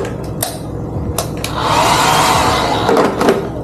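A hotel bathroom hair dryer in a Boracay beachfront room blows with a loud, steady breathy roar, preceded by a few brief clicks and handling knocks.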